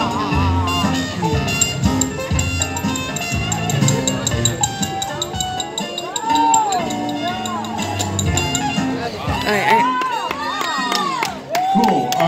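Audience at a tattoo convention demonstration clapping and cheering in a loose burst that rises and fades under music and a voice speaking over the crowd.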